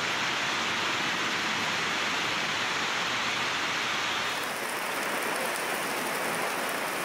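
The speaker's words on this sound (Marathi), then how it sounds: "मुंबईसह कोकणात देखील हा मुसळधार पाऊस बरसतोय." Heavy monsoon rain falls in Mumbai, a dense, steady hiss of downpour striking surfaces, loud and continuous without any speech.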